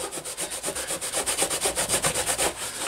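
A rag soaked in lacquer thinner is scrubbed back and forth over ABS motorcycle plastic to lift white spray-paint specks, making a steady, rhythmic swishing rub with quick even strokes, close up and uninterrupted, with no voices.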